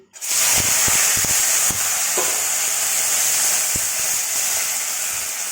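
Chopped onion hits hot oil for an egg curry and bursts into a loud, steady sizzle with crackling frying that holds for several seconds, broken by a few faint stirring knocks against the pan.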